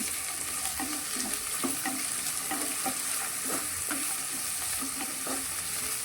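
Coriander and vegetables being stirred in a frying pan while making upma, with steady sizzling and repeated scraping strokes of a spoon at an even rhythm, close up and with no talking.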